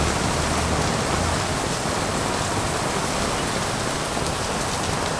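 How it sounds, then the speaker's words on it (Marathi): Heavy rain pours outside a cinema, a loud, unbroken wash of close hiss that stays constant throughout. "खूप जोराचा पाऊस लागला"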